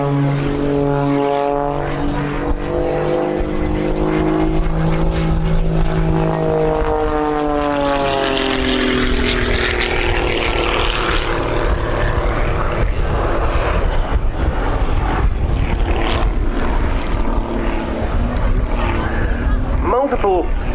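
A propeller aerobatic aircraft performs a flat spin at an air show, its engine drone rising and falling in pitch with a cyclic warbling as it rotates. The drone is loud and continuous throughout, with an announcer talking over it.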